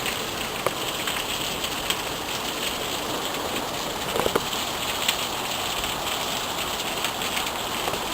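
Steady rain patters on surfaces all around, a continuous dense hiss with scattered individual drops ticking close by, loud and even from start to finish with no voices.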